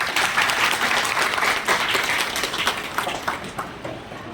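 Hearty audience applause at a motivational business talk, dense clapping that holds steady and then gradually tapers toward the end.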